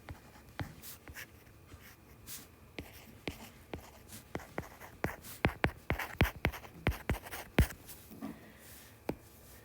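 Pen or pencil scratching on paper while someone writes out notes for a chemical equilibrium problem, a run of short, quiet strokes that grow denser and louder toward the end, with no talking.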